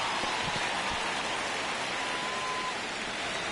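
Rain falls steadily during a baseball video game, giving a dense, even hiss of drops on surfaces. It stays loud and constant throughout, with no voices.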